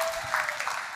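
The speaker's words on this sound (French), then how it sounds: "Un applaudissement pour le technicien." Brief burst of audience applause in a church service, a steady wash of clapping filling the whole moment at moderate volume.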